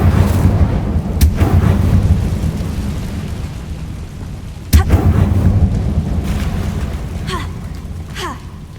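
An Incendio fire spell cast in Hogwarts Legacy bursts out as two sharp booming blasts over a steady low rumble, followed by a few short whooshing crackles near the end.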